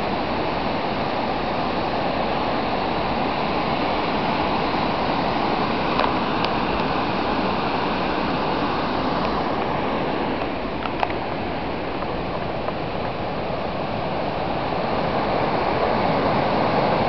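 A waterfall in the mountains of Rio de Janeiro state roars as a steady, broad rushing wash of water, continuous and fairly loud from start to finish, with no talk over it.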